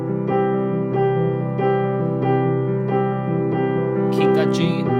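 Keyboard arpeggio pattern with right-hand notes added on top, steady repeating broken chords sounding at an even pulse, clear and close, with a brief brighter burst near the end.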